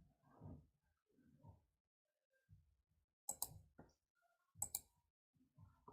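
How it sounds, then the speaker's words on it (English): A computer mouse clicks several times in a quiet room, sharp short clicks in two close pairs, with soft murmurs and breathing between them. "So click the data analysis button."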